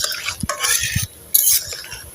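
A metal spatula scrapes and clinks around ripe mango fritters frying in a pan, in quick close strokes with a brief pause between bursts; no voices.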